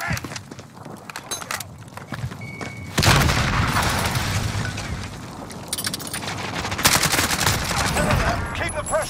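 Rapid bursts of automatic gunfire in a Warzone firefight, with heavy booming volleys that swell sharply partway through and keep going, loud and close amid overlapping shots and occasional voices.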